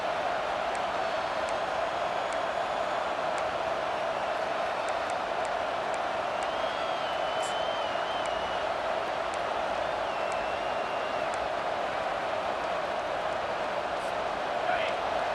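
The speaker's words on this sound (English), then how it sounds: "Listen to this crowd just shaking the girders of this place trying to help their defense." A steady, roaring stadium crowd in the video game EA Sports College Football 25 fills the air with a constant wash of noise, a few faint whistles and calls rising above it.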